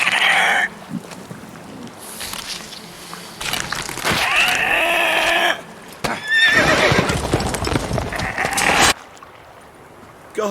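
A horse in The Witcher 3 whinnies loudly several times between galloping and clip-clopping hooves, with splashing and brief voices over a busy in-game soundscape.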